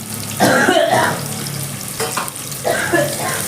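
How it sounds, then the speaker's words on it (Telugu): Two large, thinly sliced onions fry in oil in a pan for a fenugreek chicken fry, giving a steady close sizzle broken by louder bursts as the pan is stirred. "ఉల్లిపాయ మాత్రం ఎర్రబడాలి, మంచిగా వేగాలి, అంతవరకు వేయించుకోవాలి"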